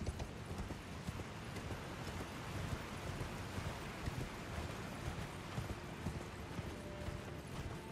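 A horse gallops in the game Elden Ring, a fast, continuous drumming of hooves mixed with a broad rushing noise. The sound stays steady and fairly quiet for the whole stretch.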